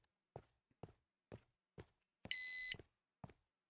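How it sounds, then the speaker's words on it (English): A single steady electronic beep, a bright sustained tone with stacked harmonics lasting under half a second, sounds clearly amid a series of soft regular thumps like footsteps or taps. "Oh, I played a beep."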